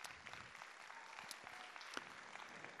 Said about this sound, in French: Vous pouvez les applaudir, s'il vous plaît.